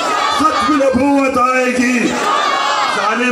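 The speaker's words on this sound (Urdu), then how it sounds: "زور سے عمران جائے گا, ہاتھ بلند کر کے عمران جائے گا" A large crowd at a women's march in Pakistan chants political slogans in Urdu loudly in unison, rhythmic shouted phrases rising and falling together, close and continuous for the whole stretch.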